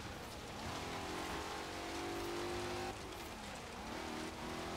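Holden Maloo ute engine racing in Forza Horizon 3, a loud continuous revving drone with pitch shifts as gears change, heard alone without talk.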